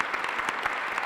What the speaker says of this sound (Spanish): Quiero, por favor, que les brindemos un muy fuerte aplauso a nuestros 4 fantásticos ponentes y panelistas.